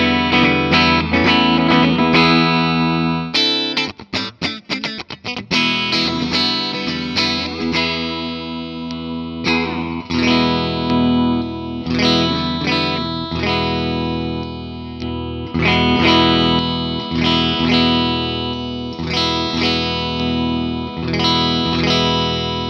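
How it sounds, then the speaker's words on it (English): Electric guitar, a Guild Surfliner, played through heavy distortion with chorus-like effects, loud and continuous strummed chords with a brief choppy muted break early on, no talking. "usually that's pretty good once you throw some distortion on it"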